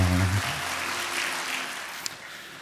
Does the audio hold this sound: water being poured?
no